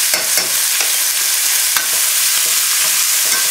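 Beef and Chinese vegetables with ginger sizzle loudly in a hot pan, with scraping stirs and tosses over a constant bright frying hiss; no talking.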